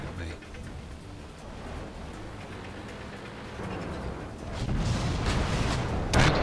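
Tank shells firing and striking the player's tank in the World of Tanks video game, a run of low booming impacts and gunfire that grows louder toward the end, with a sharp hit near the close.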